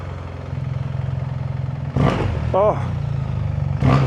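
A BMW R1300GS motorcycle engine idles with a low, steady throb and then revs in two short sharp bursts, heard up close, with a brief spoken exclamation between them.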